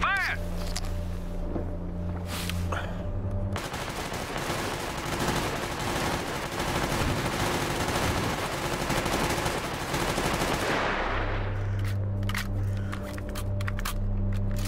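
A squad fires heavily on a bridge in Stalker Clear Sky, a dense and loud fusillade of rapid automatic gunfire that runs for several seconds before stopping abruptly. Short bursts of speech frame the shooting.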